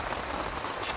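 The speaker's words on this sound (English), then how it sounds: "It's pissing down with rain." Steady heavy rain pours down at a lakeside carp fishery, a dense continuous hiss of drops on surfaces that stays even throughout, with no voices.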